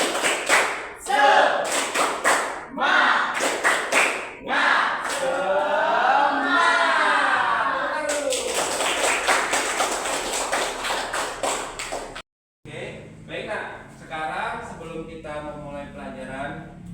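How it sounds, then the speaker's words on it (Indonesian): A classroom of schoolchildren does a rhythmic group cheer-clap led by a teacher, sharp claps in patterned bursts mixed with children's chanting voices, loud and close, followed after a brief pause by more chanting. "1, 2, 3, tepuk semangat"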